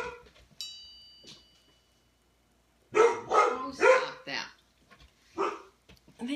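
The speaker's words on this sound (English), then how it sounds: "Let me just check on this, what they're barking at." Dogs on a farm with barn cats nearby let out a few sharp barks in a short cluster, separated by quiet gaps and fainter scattered sounds.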